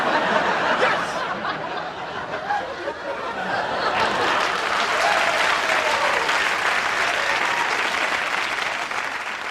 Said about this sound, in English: the audience applauds a character's performance, mid-scene